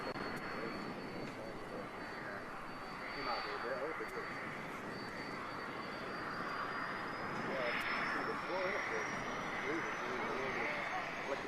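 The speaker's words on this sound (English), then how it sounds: "Aha! The Vulcan!" Avro Vulcan jet bomber flying overhead, a broad steady roar of jet engines with a rising whine, sustained and fairly loud throughout.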